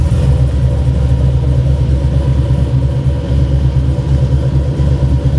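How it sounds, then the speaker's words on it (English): A car engine cranks and runs loud and steady close by at a used-car lot, with a continuous low rumble and slight revving throughout and no voices. "Let me start a couple of these cars for you."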